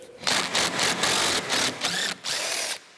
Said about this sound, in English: I'm going to see if I can hit them with this impact wrench and see if they'll come on out